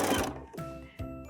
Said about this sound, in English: So let's head over to the sewing machine and sew in this elastic.